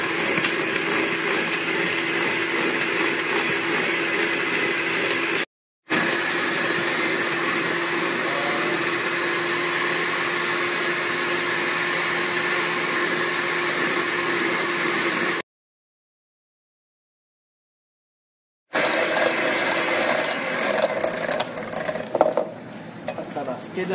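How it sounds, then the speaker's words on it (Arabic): Electric cake mixer whisking eggs and vinegar over a water bath, a steady loud motor whine running continuously, breaking off twice into silence and then resuming. "خلاط الكيك"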